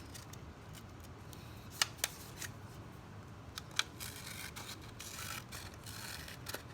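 Scissors cutting curved corners off a sheet of paper for a craft fairy house roof, a few faint, sharp snips and soft papery scraping over steady background hiss.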